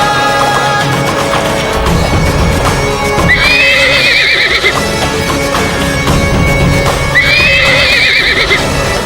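A horse neighs loudly twice, its high whinnies rising over a dense, busy background of steady rumbling and clatter that fits hooves clopping across a battlefield.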